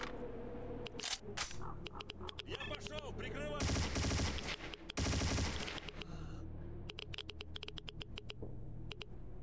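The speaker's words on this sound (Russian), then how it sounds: "Он столько выстрелов выдержал." Gunfire in the shooter game STALKER: loud bursts of automatic weapon fire and dense rapid shots, with a heavy sustained volley midway and sharp clicks and impacts throughout, against a noisy background.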